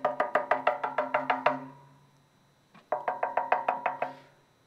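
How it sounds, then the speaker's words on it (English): Rapid knocking on a door comes in two quick bursts of about eight sharp, resonant raps each, separated by a short pause. The knocks are close and loud, with a slight ring after each rap. "A knock."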